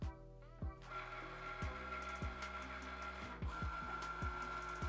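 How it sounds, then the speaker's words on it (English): A Cricut Maker cutting machine works through premium vinyl with a quiet motor whir, punctuated by repeated short mechanical clicks and buzzing carriage moves at irregular intervals, close up and alone. "press the flashing Cricut button and let it cut on out"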